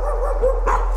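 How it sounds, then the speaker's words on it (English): A dog in the horror video game Layers of Fear gives a short, close bark or yelp over a steady low game hum, lasting about a second. "Oh, it's a dog!"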